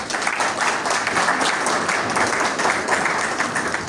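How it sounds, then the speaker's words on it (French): Dense, sustained applause fills a hall at an economic forum as the audience claps together for several seconds, loud and even with little speech on top. "Sous vos applaudissements s'il vous plaît."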